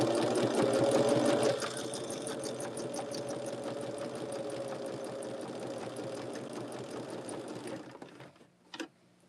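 A sewing machine stitches quilt block seams for a churn dash block with a fast, even mechanical chatter, louder at first and then steady before stopping with a final click, close by and without speech.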